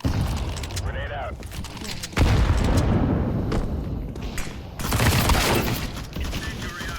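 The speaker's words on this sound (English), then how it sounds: "Throwing a grenade." Grenade and incendiary explosions in a tactical shooter video game, several loud broadband bursts in quick succession with a sharp jump in level partway through, over busy battle noise and voices calling out throws.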